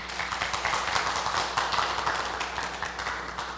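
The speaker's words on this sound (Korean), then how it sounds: "네, 큰 박수로 모시겠습니다." A crowd applauds steadily at a church praise concert, a dense patter of many hands clapping throughout, fairly loud and close.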